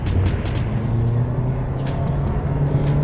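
2023 Toyota Prius with CVT transmission and all-wheel drive accelerating hard in sport mode, a loud steady engine drone heard from inside the car with a rising hum that holds for the whole few seconds.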